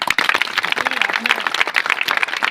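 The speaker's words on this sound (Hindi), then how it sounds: "एक बार जोरदार ताली कमेटी के लिए" Village crowd at a Dr. B.R. Ambedkar birth anniversary celebration applauding the organizing committee, a brisk, dense burst of clapping close by with some voices mixed in.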